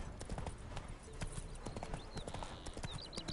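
Horse hooves clip-clop steadily on the ground in the video game The Witcher 3, a continuous close rhythm of hoofbeats with a few high bird chirps in the background.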